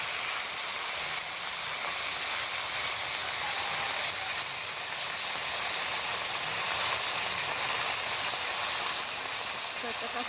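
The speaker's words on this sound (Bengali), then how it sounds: "তো আমি এবার ঢেঁড়সটা দিয়ে দিতেছি।" Okra fries in a hot pan in a village kitchen, a continuous loud sizzle and hiss that holds steady for the whole stretch.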